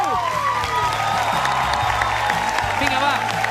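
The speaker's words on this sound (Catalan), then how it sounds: "Un fort aplaudiment per la Monet Teruel!" A theatre audience gives loud sustained applause for a stage performer, dense clapping and cheering that fills the space, with voices and whoops mixed through the crowd noise.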